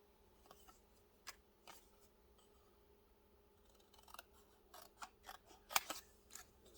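Scissors snip paper for a junk journal in a quiet room, a faint scattering of small crisp cuts that grows into a quicker run of snips toward the end.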